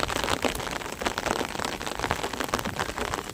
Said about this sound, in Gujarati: જોરદાર ફૂલ વરસાદ